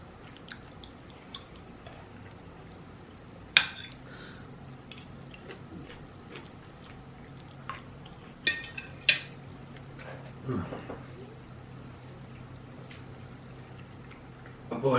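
Someone eats a Sonic lunch of battered onion rings: faint, close crunching and chewing with occasional sharp clicks and rattles of packaging or utensils over a quiet room.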